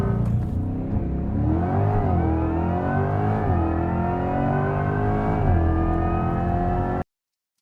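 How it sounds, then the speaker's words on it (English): A 2024 Corvette E-Ray launches hard with launch control, its engine note climbing through several gear shifts with brief dips between, loud and close, cutting off abruptly near the end. "2024 Corvette E Ray with launch control."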